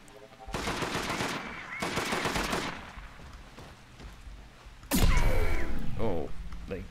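Automatic turret fire in the video game Deathgarden rattles in rapid bursts, loud and close, with game sound effects and a tonal whine layered over the shooting.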